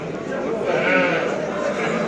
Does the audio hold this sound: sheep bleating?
yes